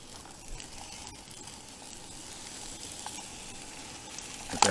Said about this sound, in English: Get the Canadian bacon in there.